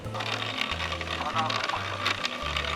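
A hang-on-back aquarium filter, just cleaned and filled with water, starts up with an odd, uneven low motor buzz that cuts in and out in short bursts, with faint watery noise above.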